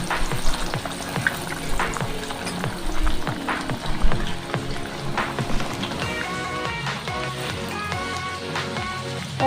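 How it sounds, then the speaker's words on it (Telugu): Chana dal sizzling as it is added bit by bit to hot oil deep enough to submerge it, a steady close crackle and bubbling with scattered stirring clicks throughout. "ఆయిల్ ములిగే వరకు పెట్టి ఈ శనగపప్పుని కొంచెం కొంచెం వేసుకుంటూ ఉండాలి"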